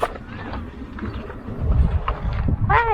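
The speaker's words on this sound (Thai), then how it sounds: "ลม" Gusty wind buffets a lakeside campsite at the Wang Rom Klao dam in Uthai Thani, Thailand, a low rumbling rush that swells louder toward the end, with faint higher tones near the close.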